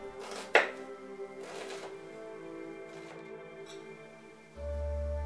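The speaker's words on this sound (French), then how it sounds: "Ciselez la partie bulbe de l'oignon botte." A knife finely chopping the bulb of a spring onion on a board: a few crisp cuts and scraping strokes over a low sustained hum, with a steady droning tone entering near the end.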